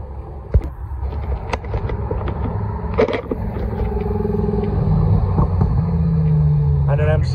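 A Maserati MC Grand Cabrio supercar drives past on a street in Alderley Edge. Its engine rumble builds steadily and grows louder toward the end, with bystanders chatting nearby.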